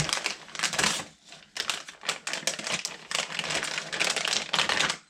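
Plastic packaging holding RC truck upgrade parts for a TRX4 K-5 Blazer being torn and crinkled open up close, in several loud rustling bursts with short pauses between them.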